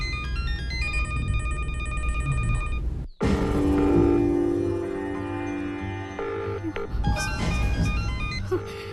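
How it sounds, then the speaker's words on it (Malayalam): A phone rings on and on without being answered, repeated electronic ringtone tones over a low background hum, with a brief cut partway through before the ringing pattern continues. "ഫോൺ റിങ് ചെയ്യുന്നുണ്ട്, പക്ഷെ ആദ്യം ഫോൺ എടുക്കുന്നില്ല"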